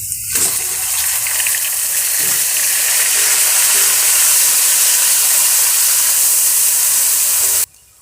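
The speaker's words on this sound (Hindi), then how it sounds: "और अब मैं इसमें ये प्याज डाल रही हूँ।" Onions dropped into a hot haleem pot burst into a loud, steady frying sizzle with hissing steam that runs for several seconds and then cuts off abruptly.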